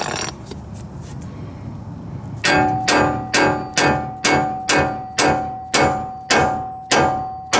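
Metal clanging from a wrench or hammer working loose an upper control arm bolt on a Honda Civic hatchback, a steady series of about ten sharp, ringing strikes at an even rhythm, close and loud.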